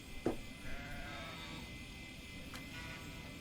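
A rescued sheep in a video game bleating once clearly near the start, then a fainter second bleat later over a low steady background hum.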